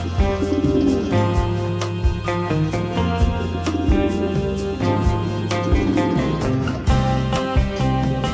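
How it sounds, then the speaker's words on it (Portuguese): Many pigeons, including young ones, coo together in a loft, layering soft, repeated throaty calls over a constant close murmur with no speech. "É pombada que não acaba mais."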